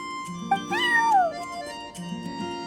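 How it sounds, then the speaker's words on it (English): Charcoal, a neighbour's cat in the video game Genshin Impact, lets out one clear drawn-out meow that rises and then falls, close and moderately loud over soft background music. "I'm sorry, that's my neighbor's cat."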